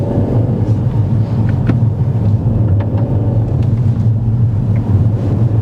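A car pulling away and accelerating during a driving lesson, with a steady low engine rumble and road noise heard from inside the cabin.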